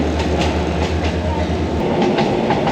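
Passenger train running on rails on a journey near Ayutthaya, Thailand, heard from inside with a loud steady rumble and a regular clickety-clack of wheels over rail joints.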